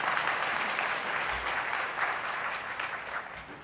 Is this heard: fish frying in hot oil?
no